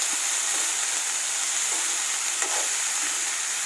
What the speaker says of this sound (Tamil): கேரட், பீன்ஸ், முட்டைக்கோஸ் எல்லாத்தையும் சேர்த்து நல்லா மிக்ஸ் பண்ணி விட்டுறலாம்